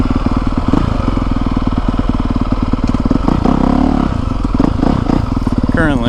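A 2020 Honda CRF450R dirt bike idles nearby while warming up, its single-cylinder engine thumping in a fast, steady rhythm, with someone talking over it.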